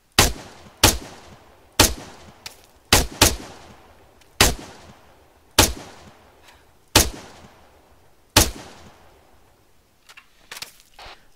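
Gunfire in a video game, about ten loud single shots at irregular intervals, each a sharp crack followed by a decaying echo, with a few fainter pops at the end and no speech.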